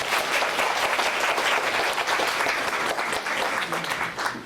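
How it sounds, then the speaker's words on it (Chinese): An audience at a Buddhism lecture welcomes a guest speaker with sustained, dense applause, many hands clapping steadily at moderate loudness for several seconds before it begins to thin slightly. "让我们以热烈掌声欢迎堪布的到来"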